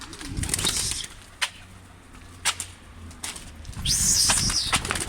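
Pigeon taking off, its wings flapping in sharp bursts near the start and end, with a few isolated thumps between, outdoors at moderate distance and fairly faint, no talk.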